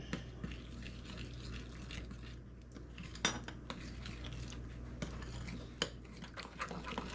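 A spoon stirs powdered freeze-dried jalapeños into a grain-free lunch bowl, giving soft, scattered scrapes and light clinks against the bowl, close but quiet, with no talking.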